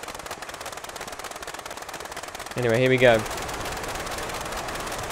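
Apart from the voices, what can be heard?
Blériot XI aircraft engine in Microsoft Flight Simulator video game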